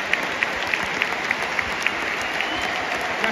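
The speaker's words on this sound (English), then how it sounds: "Round of applause for Alex Tyson." A football crowd at a Preston versus Burnley derby claps steadily in a sustained round of applause, dense and even, with no voices standing out.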